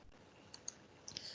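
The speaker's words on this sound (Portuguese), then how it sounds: "2 cliques para editar o texto." Two light mouse clicks, a quick double-click in CAD drafting software, faint and close against a quiet room hiss, followed by a few soft, rapid clicks.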